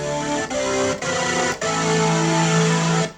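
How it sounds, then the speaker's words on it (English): Crunchy overdriven chords on a Yamaha PSR540 keyboard, gritty and loud, played in short held stabs with brief gaps between them. "There's a crunchy overdrive, very nice."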